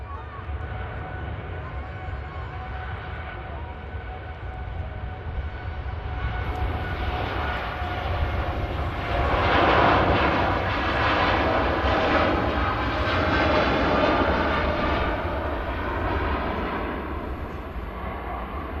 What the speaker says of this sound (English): Dreamliner out to Montego Bay.